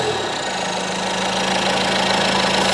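Citroën Berlingo diesel engine idling with a steady, harsh knocking rattle, close and continuous with no talk.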